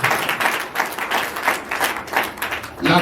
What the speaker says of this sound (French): Let's applaud for the God who gives life.